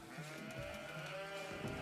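Sheep bleating in the strategy game Age of Empires 4, a single steady wavering bleat held for nearly two seconds, faint and alone.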